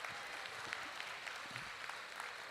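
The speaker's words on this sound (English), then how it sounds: "Could you students please give them a round of applause and recognize them?" Students clap in a steady, continuous round of applause for their coaches, mentors and parents at an Eastern Pennsylvania robotics qualifier, a dense patter of many hands filling the room throughout.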